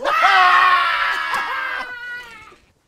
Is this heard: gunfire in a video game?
no